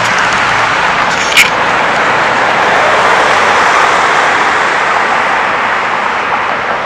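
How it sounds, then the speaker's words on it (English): Steady roar of back-and-forth road traffic in Geneva, NY, a loud continuous wash of passing vehicles with one brief sharp click early on, no voices. "all the noise is coming from right here too. Back and forth traffic."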